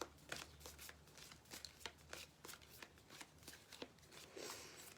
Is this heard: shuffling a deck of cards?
yes